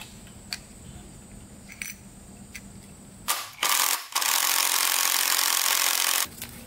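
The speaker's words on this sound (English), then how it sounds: "using the air gun we just got off this bolt" An air impact gun working a bolt off a Suzuki RM125 dirt bike engine. A couple of short stuttering bursts are followed by a loud, sustained hammering whir of about three seconds that stops abruptly, with faint workshop clicks before it.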